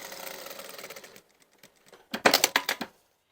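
A sewing machine stitches a welt pocket on a waistcoat, a quick mechanical rattle that runs steadily, pauses, then returns in a louder short burst of rapid stitching, close by with no talk.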